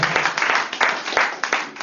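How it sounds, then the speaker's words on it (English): Party guests at a surprise 80th birthday celebration clap together in a short burst of brisk, close hand claps with distinct individual slaps, no talking over it. "How about a round of applause for my beautiful wife and good friend, my lovely Joan."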